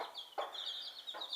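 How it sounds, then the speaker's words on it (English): A broody hen sitting on a clutch of her own eggs gives soft, close clucks and a drawn-out murmuring call, quiet and alone. "dear little hen there, sitting on 13 eggs, her own eggs, hatched out 12 and a half"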